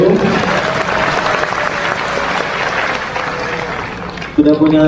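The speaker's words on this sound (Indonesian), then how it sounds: "Kita berikan tepuk tangan dulu" Applause from an audience at an Islamic lecture fills the room, a continuous dense clapping wash with voices mixed in and a brief spoken word at the end.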